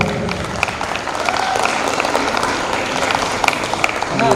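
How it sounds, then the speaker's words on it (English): A gathering breaks into a steady round of applause, dense clapping holding at an even level throughout without pause. "A round of applause, girls."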